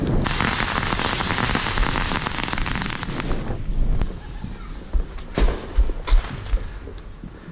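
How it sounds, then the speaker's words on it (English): Fourth of July fireworks crackle and pop in a dense, loud barrage, then thin out into scattered sharp bangs and whistles, with faint voices in the background. "Enjoying the fireworks?"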